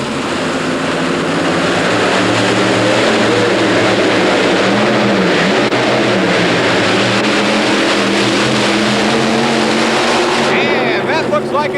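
A multi-engine modified pulling tractor, Ohio Gold, makes a full pull at an indoor tractor pull competition, roaring loud and sustained with layered engine drone and a crowd and announcer underneath, then cutting off near the end.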